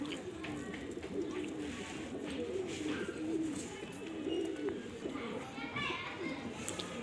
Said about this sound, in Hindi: कासना कबूतर है